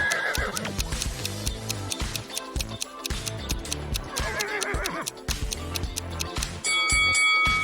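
A horse neighs in a couple of wavering whinnies amid a dense backdrop of clicks, ticks and chiming tones, ending with a bright sustained tone.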